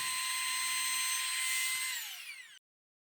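A trim router fitted with a V-groove bit chamfers the edge of a workpiece with a high, steady whine, then winds down and stops after about two and a half seconds, with no talk.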